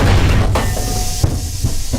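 A self-propelled artillery gun fires in combat with a heavy, loud boom, followed by a second blast and a rumbling echo in the open air.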